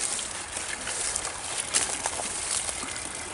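Water trickles steadily through a small ditch-like creek beside a field outdoors, a continuous soft, hissing flow with faint splashy ripples, fairly close and with no talking.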